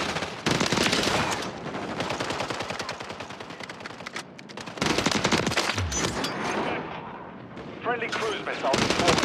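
Sustained gunfire in Call of Duty MW3 multiplayer on PS5: rapid automatic bursts and heavy fusillades, loud and dense, with short pauses between volleys and faint voices mixed in.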